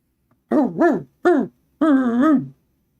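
A dog gives three drawn-out, tonal, howl-like barks close by: two quick ones, a single one, then a longer wavering call, with silence in between.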